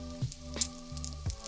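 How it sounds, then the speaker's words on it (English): An egg fries in a couple tablespoons of oil in a cast iron pan over medium-high heat, a soft steady sizzle with a few brief louder crackles and clinks, no talk. "Using a cast iron pan over medium-high heat, add a couple tablespoons of cooking oil and add in the egg."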